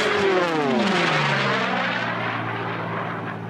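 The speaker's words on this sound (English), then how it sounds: "hear the difference between those massive engines in the Sea Furies and the engine in the P51" Racing piston aircraft, Sea Fury and P-51, roaring past at an unlimited air race, a loud close pass whose engine drone sweeps down in pitch as the planes go by, then fades into a steady rumble.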